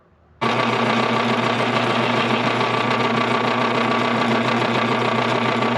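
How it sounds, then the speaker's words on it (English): A lathe machining a rubber part starts abruptly and settles into a loud, steady motor drone with a whirring, buzzing tone that holds unchanged to the end. "I'm going to see if I can machine rubber."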